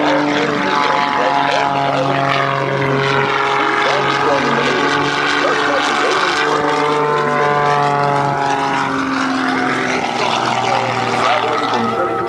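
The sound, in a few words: Pitts S2C aerobatic biplane flying at airshow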